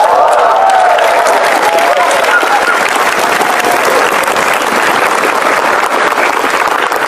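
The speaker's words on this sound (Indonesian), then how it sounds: "Sekali lagi tepuk tangan dong untuk keempatnya" Loud audience applause at a televised event, thick continuous clapping with crowd cheering mixed in, close and steady throughout.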